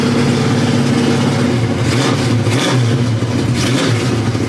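Pontiac LeMans with a 455 engine and Quadrajet carburetor, no choke, running loud and close with a rough lumpy idle and repeated throttle blips that rise and fall over several seconds.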